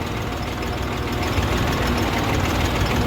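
A new tractor on a village farm runs close by, a loud, steady, low rumbling idle with a knocking beat that does not change, and nobody speaks.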